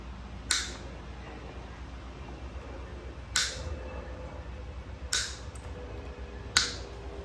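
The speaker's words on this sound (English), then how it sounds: "And we'll just clip these off." Pliers clipping off plastic pieces during a plastic welding repair, four sharp isolated snaps spaced a second or two apart over a quiet background hum.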